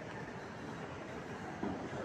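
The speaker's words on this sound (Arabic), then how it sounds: "هذه محطة القطار، هذه محطة القطار اللي كي دايرة" Steady rumble of a passenger train moving through Rabat Agdal train station in Morocco, continuous wheel and carriage noise at moderate level with a brief thump near the end.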